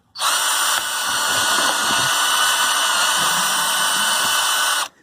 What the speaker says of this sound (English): with your 8mm metal bit and drill them